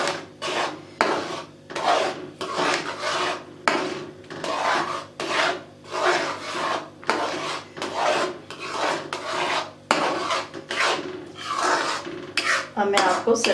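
Spoon stirring semolina and milk halwa in a pan with the heat off, a rhythmic scraping rasp repeated roughly every half second, close and loud, with no voices.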